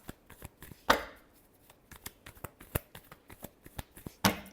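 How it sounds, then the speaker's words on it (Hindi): Tarot cards shuffled by hand in a series of quick, close riffling snaps and soft slides, with one or two sharper bridging bursts, heard alone without talk. "Last shuffle."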